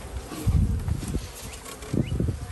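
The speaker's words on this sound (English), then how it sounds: "We're trying to get the bees up out of that box." Package honeybees buzz in short, uneven bursts as they are shaken up out of their box during a top bar hive installation, faint and close, with soft knocks and rustles between the swells.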